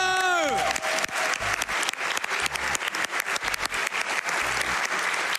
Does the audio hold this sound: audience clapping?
yes